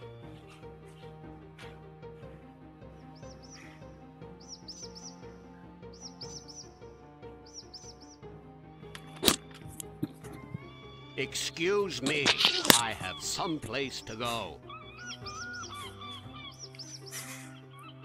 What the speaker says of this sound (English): Nice bird noises.